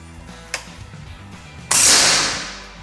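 A pre-charged pneumatic air rifle fires at a target: a small sharp click, then a loud crisp report that rings and fades over a second.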